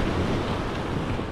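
Strong sea waves surge and wash continuously at close range, a dense rushing roar mixed with wind buffeting the microphone, with no voices over it.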